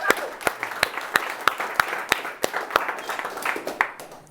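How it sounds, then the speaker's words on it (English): Audience applause at a talk on emotional health, a steady run of sharp claps forming a dense, moderately loud wash that carries on throughout without any voices. "So give yourselves another round of applause for that."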